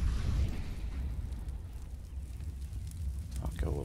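An incendiary grenade burns in Counter-Strike at a PGL Major match, a steady low roaring crackle of flames that holds throughout with a faint hiss on top, loud and close, with no other clear sounds.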